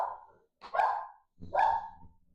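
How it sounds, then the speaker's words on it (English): Dogs barking close by: two or three sharp, loud barks with short pauses between them, and no other sound. "so the dogs are here"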